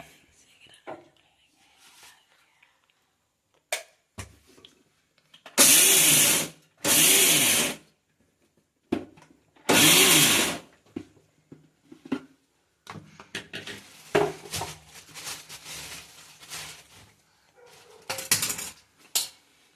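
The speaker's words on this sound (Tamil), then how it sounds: "இப்போ மிக்சியில் வச்சு நம்ம அரைக்க போகிறோம்" A countertop mixer grinder grinds roasted peanuts into a kolukkattai filling in three short, loud, whirring pulses, with clattering and handling noises in between.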